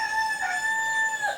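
A rooster named Chuckles crows alone in one sustained, ringing cock-a-doodle-doo, close and clear with no talk over it.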